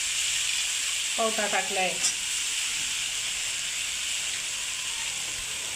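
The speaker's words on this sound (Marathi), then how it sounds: "चांगल्या भाज्या तेलात फ्राय होऊ द्यायच्या मसाल्यामध्ये." Vegetables, including pavta beans, fry in oil with masala, giving a steady, close sizzle and hiss throughout. A voice speaks briefly over it early on.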